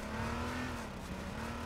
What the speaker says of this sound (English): So there's a cop car here